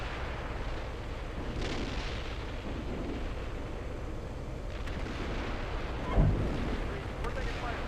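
Distant artillery fire and explosions rumble through a Steel Beasts Pro tank simulator battle, a steady low roar with one sharp nearer blast near the end, while radio voices talk over it.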